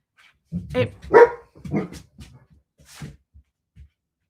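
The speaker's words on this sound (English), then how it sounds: "Bo never barks unless he actually hears something." A dog barks close by, a quick run of three or four sharp barks followed by softer, trailing huffs and yips in a quiet room.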